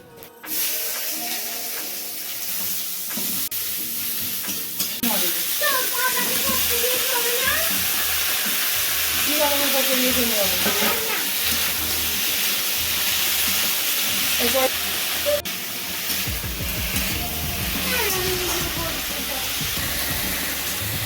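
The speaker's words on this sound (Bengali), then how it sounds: "ঝোলে ফোড়ন দেওয়া হলো" Spices tempered in hot oil are poured into a simmering gravy, and a loud, sustained sizzling hiss fills the whole stretch while voices talk intermittently over it.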